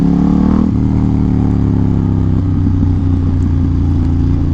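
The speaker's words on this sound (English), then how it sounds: "This Ducati Termignoni exhaust sounds so freaking good." A Ducati XDiavel motorcycle fitted with a Termignoni exhaust revs loudly nearby, with a deep, steady engine rumble that surges briefly at the start and then settles into a throbbing idle.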